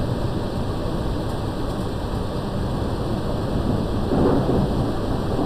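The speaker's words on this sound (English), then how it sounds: "Oh, storm's coming in." Thunderstorm in the mining game Out of Ore, a constant loud rumbling wash of rain and thunder with a slight swell near the end, no voices.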